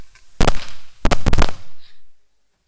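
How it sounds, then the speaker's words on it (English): Fireworks go off in a loud, close burst of sharp cracks and pops, a few quick bangs in clusters that end in a fading rumble and then silence. "So it has started with fireworks now."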